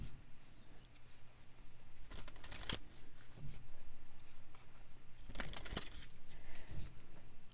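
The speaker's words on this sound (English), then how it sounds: "I am going to pull one more card for you from the Shaman's Dream Oracle" Oracle cards from the Shaman's Dream Oracle deck are shuffled by hand, with two bursts of rapid riffling riding over a quiet, steady room hum.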